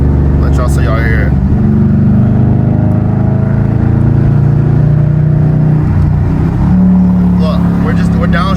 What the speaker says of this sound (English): You hear the engine roar?